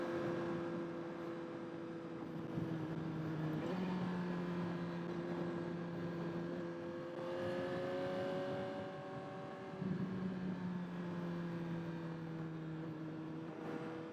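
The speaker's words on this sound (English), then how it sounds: "just enjoying the sound of this brand new GSXR 1000R." Engine note of a 2022 Suzuki GSX-R1000R sport motorcycle while riding, a steady droning hum with pitch rising and dropping through gear changes at about 4 and 10 seconds, continuous and fairly close throughout.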